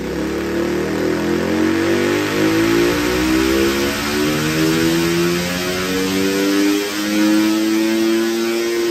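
A 290cc big bore four-stroke motorcycle engine is revved wide open during tuning, a loud, close buzzing roar climbing steadily in pitch, briefly dipping before surging again.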